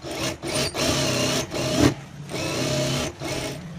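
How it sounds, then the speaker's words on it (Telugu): A sewing machine runs a stitch around the edge of a blouse, with close, loud bursts of rapid mechanical chatter broken by several short pauses and no talk. "దీన్ని మనము ఒక కుట్ట అనేది వేసేసుకోవాలన్నమాట"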